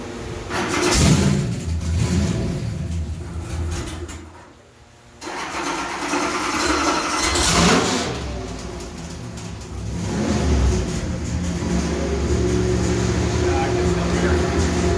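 A 427 LS3 V8 on an engine dyno, with a leaking exhaust gasket, roars through repeated loud revs that rise and fall, dipping briefly to a quieter idle before surging again with raspy crackle, while people talk under the noise.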